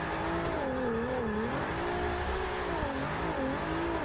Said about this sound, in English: Just gonna clutch kick this one.